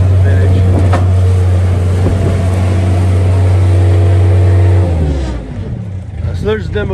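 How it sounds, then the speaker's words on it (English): A Mustang 940 skid loader runs steadily at auction, its loud, close engine holding a constant low drone before the pitch drops and the machine settles, with someone talking over the end. "So there's a demo, guys, on the Mustang 940 skid loader."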